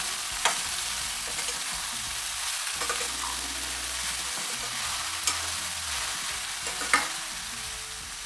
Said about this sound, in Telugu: ఈ పసుపు, ఉప్పు అంతా కలిసేలాగా మనం బాగా తిప్పుకోవాలండి.